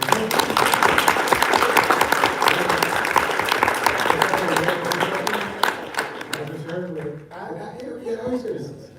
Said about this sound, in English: Premature applause